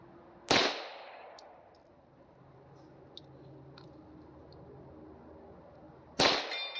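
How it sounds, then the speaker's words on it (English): Two sharp, loud pistol shots from a Taurus TH40 strike a Texas Star steel target, several seconds apart, each ending in a brief metallic ring over a quiet outdoor background. "I'm going to try to hit the Texas Star from here."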